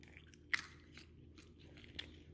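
Quiet, close chewing with a few sharp crunches as salty roasted peanuts are bitten into, spaced out over the moments.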